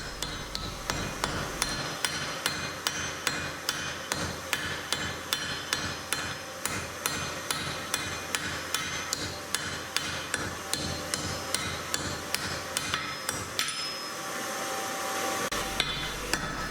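Rapid, evenly spaced hammer blows ring out on a steel bar on an anvil while U-box blacksmithing tongs are forged, dozens of sharp metallic strikes in a steady rhythm before a brief pause and a few final hits.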